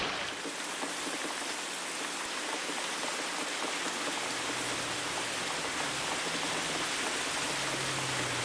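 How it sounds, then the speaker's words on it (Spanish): Rain falls steadily as a dense, even hiss that fills the whole stretch without a break, with no speech over it. "Solamente a mí me pasa que llueve con sol."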